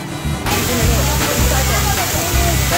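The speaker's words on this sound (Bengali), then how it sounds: "পাহাড় থেকে ঝর্ণাধারা বয়ে চলেছে নিচের দিকে পড়ছে" An artificial waterfall pours down a man-made hill at Johan Dream Valley Park in Jhenaidah, making a loud, constant rushing wash nearby while someone talks over it.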